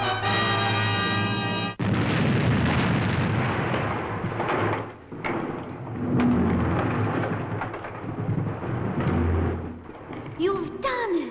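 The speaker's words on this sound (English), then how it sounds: "Come on, explode." A deep, rumbling explosion effect from the Fireball XL5 puppet series booms out after a held electronic tone and rolls on in long, heavy waves, with a few sharp sound effects near the end.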